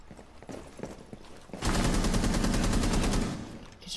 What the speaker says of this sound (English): Careful, you're getting shot at.